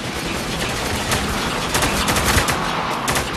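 Dense wartime gunfire in the Spec Ops: The Line shooter, a loud, continuous crackle of rapid automatic bursts and overlapping shots with no clear gaps, fairly close and without talking.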